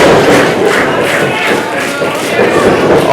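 A wrestling crowd at a live independent show roars and cheers, a loud continuous swell of voices with rhythmic surges and a few dull thumps underneath.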